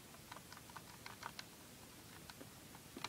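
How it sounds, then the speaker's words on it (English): Keys pressed on a D1256 security keypad, producing a series of faint, irregular plastic clicks and taps against a quiet background. "So now if I push keys,"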